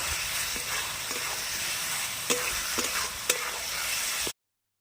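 Spice paste and potatoes sauté in a pan for a fish curry, a constant close sizzle with occasional sharp stirring scrapes, no talking, cutting off abruptly into silence near the end.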